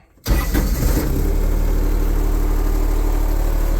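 A Steiner UM428 Utilimax diesel utility vehicle engine cranks briefly after a moment of quiet, catches, and settles into a loud, steady idle close by.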